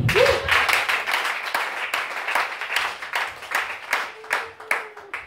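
Church congregation clapping in praise, a sustained rhythmic round of applause from a crowd in a worship hall, steady beats with a brief voice rising at the start and a faint tone near the end.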